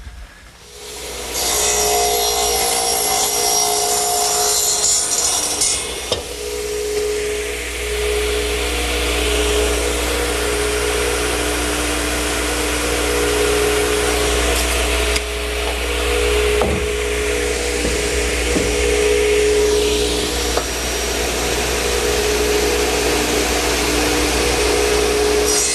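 A radial arm saw cuts pieces of 2x4 for a picnic table, giving a loud, steady motor roar and blade whine that runs continuously for about twenty-five seconds with slight swells as the blade passes through the wood.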